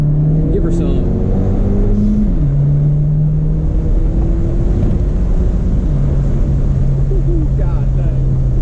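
A modified 10th-gen Honda Civic Si with a very loud turbo pulls hard in second gear, its engine drone steady and near under heavy wind buffeting, with a brief shift in pitch partway through.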